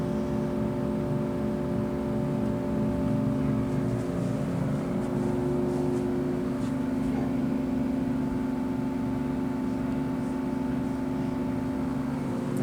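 GE HVAC unit running in a hotel room, a steady close fan and compressor hum with a constant tonal drone and no change across the stretch.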